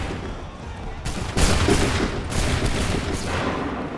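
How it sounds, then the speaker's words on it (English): Musket volleys in Assassin's Creed 3 Remastered on Xbox One: dense, layered bursts of gunfire rolling in overlapping waves, loud and sustained with no clear pauses, near and far shots blending together. "Open fire."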